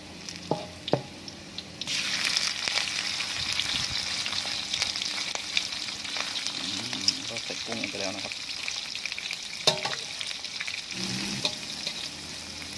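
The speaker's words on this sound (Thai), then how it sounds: "พอใส่กุ้งลงไปนะครับ ก็ ผัดกุ้งกับกระเทียมนะครับ ให้เข้ากัน" Shrimp and garlic stir-frying in a hot pan, a steady close sizzle with scraping and stirring clatter throughout, and someone speaking briefly over it.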